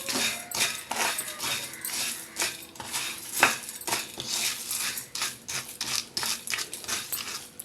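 Whole spices for garam masala and rasam powder dry roast in a pan over a low flame. A spoon scrapes and clinks against the metal in a busy, irregular rhythm, close and fairly quiet, with no talking.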